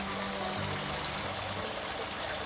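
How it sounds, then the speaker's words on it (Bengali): Steady trickling and splashing of a small water fountain in a rooftop aquaponics fish tank, continuous and fairly close, with a faint low hum beneath and no voices. "এই ঝর্ণাটা দেওয়ার উদ্দেশ্যটা হচ্ছে এর ভেতরে সবসময় অক্সিজেনটাকে মানে পানিটা চালু থাকা"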